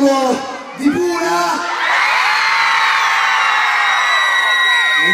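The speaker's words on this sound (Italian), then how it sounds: "posso sentire un urlo di Pura?" A concert crowd in Pula, at a show, yells and cheers loudly in a sustained roar after a brief voice at the start.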